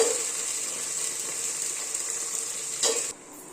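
Cut carrot and bean pieces fry in hot oil in a pan for curry biryani, a steady close hiss of sizzling that stops abruptly near the end, with no talk.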